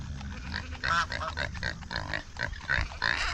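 Nearby pig grunts come in short, repeated snorting bursts, rough and uneven, against a low background rumble.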